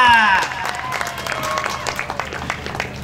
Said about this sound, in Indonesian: tepuk tangan yang meriah untuk Bapak Cabi Mustafa